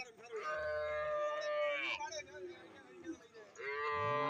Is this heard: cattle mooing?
yes